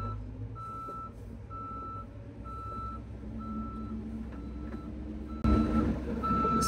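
LGMG H735 telehandler reversing, its reversing alarm giving regular evenly spaced beeps over a low diesel engine rumble, with a louder mechanical thump near the end.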